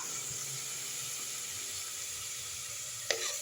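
Coriander and mint leaves fry in a pan for hotel-style pea dal vada curry, a soft steady sizzle and hiss heard up close at low volume, ending with a single sharp clack of a utensil.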